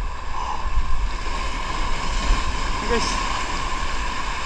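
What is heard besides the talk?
waves surging toward rocks at fishing spot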